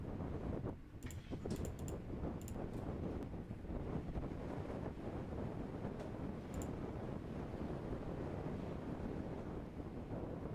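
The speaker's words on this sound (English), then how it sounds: "As that wind is really whipping up" Steady wind from Typhoon Hagibis roaring and buffeting a microphone for about ten seconds, with a few faint higher clicks early on and no speech.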